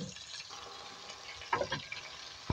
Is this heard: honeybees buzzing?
no